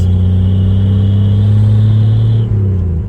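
A 1956 Chevy 210 engine runs loud and steady at close range, a low rumbling idle with a slight dip near the end.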